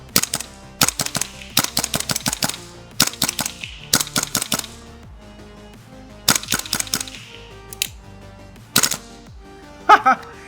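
A new KWA airsoft rifle fires in rapid, loud, sharp bursts of snapping shots, several quick volleys separated by short pauses and heard close up without speech.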